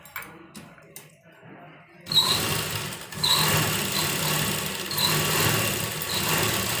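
A sewing machine double stitches a seam on an A-line kurta, starting after a few quiet handling sounds and then running steadily and loudly at close range with a continuous whirring rattle.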